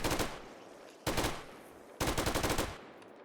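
A light machine gun in the 7 Days to Die video game fires three loud, close bursts of rapid shots, each about a second long, with brief pauses between them.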